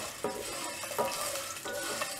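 Curry leaves sautéing in a pan for pudina thogayal: a close, bright sizzle with a few spoon strokes scraping and stirring against the pan at uneven intervals, no voices.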